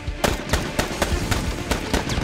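Rapid bursts of gunfire crack repeatedly inside a house in an irregular rhythm over a dense, noisy background, loud and sustained.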